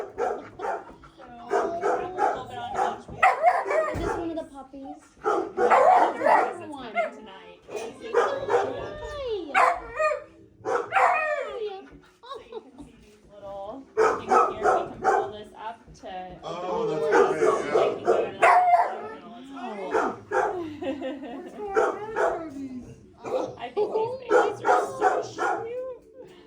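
Puppies and dogs at a rescue shelter bark and yip in frequent overlapping bursts, some high whimpers among them, close and loud throughout, with people talking in between.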